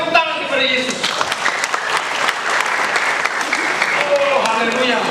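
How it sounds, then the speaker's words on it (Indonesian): A church congregation at a family Christmas service applauds loudly and steadily, a dense wash of clapping with voices and cheers mixed in throughout. "Tepuk tangan kepada Yesus."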